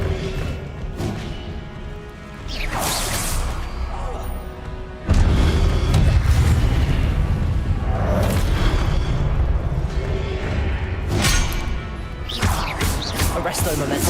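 Spell blasts and booming explosions ring out in Hogwarts Legacy combat, loud and repeated across the stretch, with a heavier burst partway through and a player's voice calling out over the action.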